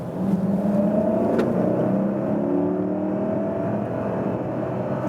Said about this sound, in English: I'll go down to 30 miles and then hammer it